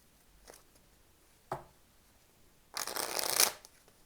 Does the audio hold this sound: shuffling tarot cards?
yes